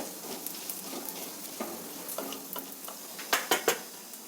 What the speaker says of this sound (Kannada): ಬೇಳೆಗಳು ಫ್ರೈ ಆಗೋದಕ್ಕೆ ಟೈಮ್ ಜಾಸ್ತಿ ತಗೊಳ್ಳುತ್ತೆ